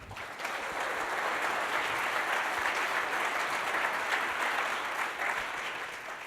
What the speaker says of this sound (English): give these guys a big round of applause first